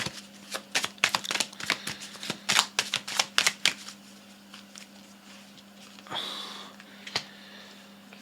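A deck of cards is shuffled for a card reading, with crisp rapid riffles and sharp snaps close by, followed by softer sliding and a few taps near the end.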